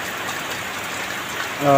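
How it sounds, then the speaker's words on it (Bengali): Rain falls steadily at Charmonai as an even, close hiss, and a voice starts speaking over it at the very end. "হঠাৎ করে আল্লাহ ফকরবুল আলমিনের রহমতের বৃষ্টি"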